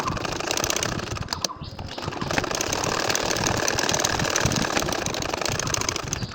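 A sewing machine runs steadily and loudly, stitching along the lines of a nakshi kantha quilt, with a continuous fast mechanical whir and one brief pause near the start, no talking.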